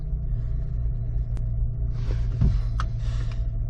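A car engine idles steadily at an auction lot with the air conditioning blowing cold, a low continuous rumble with a few faint clicks and rustles over it.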